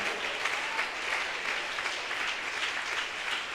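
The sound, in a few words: applause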